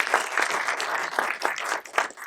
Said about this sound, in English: I'd really appreciate your applause in welcoming Oyin to the stage this afternoon